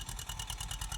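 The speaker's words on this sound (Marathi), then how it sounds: "पेरणी चालू आहे. स्वराज ट्रॅक्टर आहे" A Swaraj tractor runs steadily while pulling a seed drill to sow chickpea in a field, giving a low, pulsing engine drone that stays moderately distant and even throughout.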